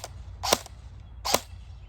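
Lancer Tactical AR-15 airsoft gun firing, with two sharp, snappy shots about 0.8 seconds apart, close and clear against a quiet background.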